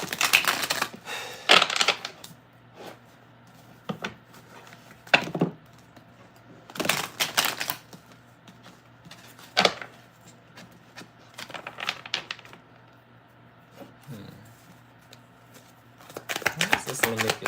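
Tarot cards shuffled and pulled from the deck, giving several short bursts of riffling and flicking spread through the clip, alternating with quieter stretches and light handling.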